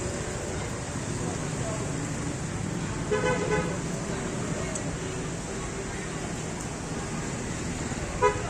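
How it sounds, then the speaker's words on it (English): Short car horn toots sound amid steady Vietnam street traffic, a constant roar of engines with a couple of brief beeps rising above it. "He just honks and goes."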